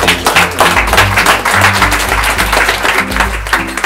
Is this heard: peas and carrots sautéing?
no